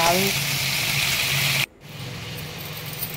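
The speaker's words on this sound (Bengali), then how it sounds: "তেজপাতা দিয়ে আলু আর লাউটাকে দিয়ে দিলাম, দিয়ে এবারে বেশ ভালো করে এটাকে ভেজে নিতে" Potato and bottle gourd frying in oil with cumin and bay leaf, a steady close sizzle that cuts out abruptly midway, then returns as a quieter hiss.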